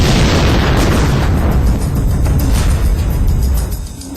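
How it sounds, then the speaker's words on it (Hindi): A massive explosion as a torpedo blows apart a warship, a single dense roaring boom that rumbles on for about four seconds before starting to fade, loud and alone without any voices. "अचानक एक तेज धमाका होता है और ये जहाज तिनके की तरह बिखर जाता है"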